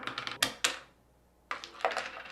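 Crokinole discs strike on a wooden board in a parlor game, sharp clacks in two bursts with a short quiet gap between them, close and crisp.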